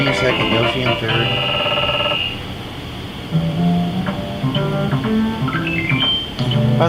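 Super Mario Kart on the SNES plays its bright extra-life chime: a quick run of high, clean electronic tones rising over the game's steady synth music, loud and close with no voices.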